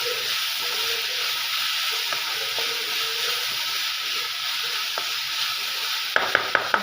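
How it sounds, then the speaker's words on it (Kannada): Salted vegetables stirred in a hot pan for an egg dish, with a steady loud sizzle throughout, soft scraping strokes, and a few sharp taps of the spoon on the pan at the end, with no voices. "ಈಗ ಉಪ್ಪು ಹಾಕಿದ್ಮೇಲೆ ನಾವು ಚೆನ್ನಾಗಿ ಮಿಕ್ಸ್ ಮಾಡ್ಕೋಬೇಕಲ್ವ."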